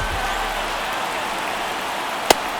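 A stadium crowd in the baseball video game MLB The Show 23 roars as a steady, broad wash of cheering noise, with one sharp crack near the end.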